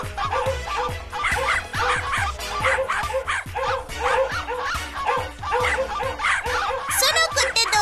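Dogs in a kids' show bark and yip in a steady, rapid chorus that runs the whole time, loud and close, with brief whimpers mixed in.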